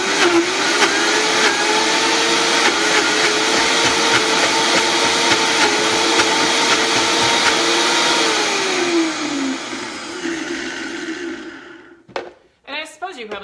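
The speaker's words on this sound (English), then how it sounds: "just the dried ingredients, we're going to put it in a blender. So we're going to blend it all up" A countertop blender grinds dried porridge ingredients with a loud, steady motor whine that holds for about ten seconds, dips in pitch, then cuts off, followed by brief rattling.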